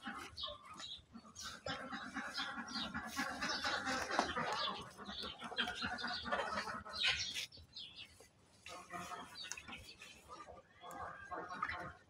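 Free-ranging backyard chickens, let out to wander in cold weather, cluck and chatter faintly and continuously while a person talks nearby.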